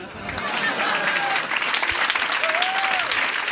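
Dense crowd applause fills a packed open-air square at an Italian stand-up comedy show, a steady wash of many hands clapping at full volume with a few whistles cutting through.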